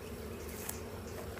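Honey bees buzz steadily and faintly around an open hive during honey super work, a continuous close insect drone with no voices.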